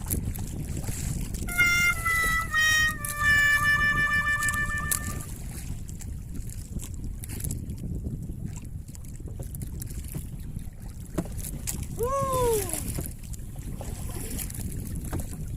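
Steady wind rush and choppy water slapping around a fishing boat in Albay Gulf, with a few brief engine or horn tones and a short squeak partway through.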